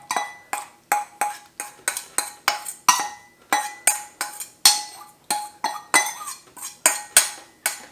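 Seasoning mix being spooned over veggie curry in a pan, a rapid series of sharp metallic clinks and taps of spoon against pan and bowl, repeating steadily close by.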